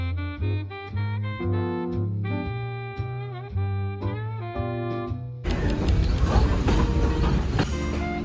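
On the Wilmington and Western Railroad, a train's loud multi-tone horn sounds in a long series of steady blasts. Then comes a dense, broadband rush of rolling wheels and rattling cars heard from close by.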